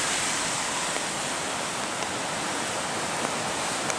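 Floodwater rushes through Montecito Creek by a bridge an hour after an inch of heavy rain, a loud, dense, unbroken roar of churning water, close and steady throughout.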